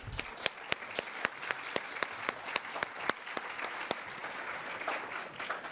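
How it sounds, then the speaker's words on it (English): An audience applauds a lecturer at a distinguished lecture. Steady, fairly soft clapping fills the hall, and a few sharp, close claps ring out over the wash of hands. "let's give a round of applause to Dr. Arinzi"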